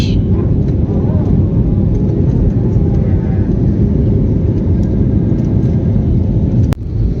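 An airplane taking off and climbing from Hyderabad airport: a loud, steady engine roar and rumble, constant from start to finish, ending with a brief sharp click.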